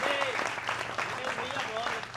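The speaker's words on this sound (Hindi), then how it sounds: "थोड़ी तालियां उठाओ बच्चों" Audience applause at a televised poetry recitation by a poet, a steady wash of clapping with a voice speaking over it throughout.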